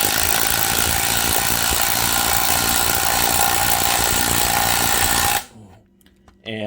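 An impact driver fitted with a 3/8-inch drive thin-wall impact socket runs a fastener home: a loud, continuous rattling hammer for about five seconds, then stopping abruptly, followed by a brief quieter burst.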